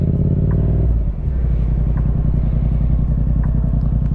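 A motorcycle engine revs hard for a clutch-up wheelie, a loud close rumble that swells, briefly dips, then holds a steady throaty roar.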